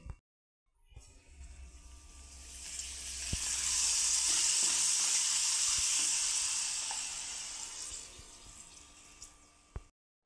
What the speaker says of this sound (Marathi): अजून एक तळून दाखवते।